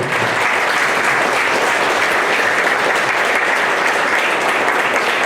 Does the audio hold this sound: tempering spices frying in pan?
no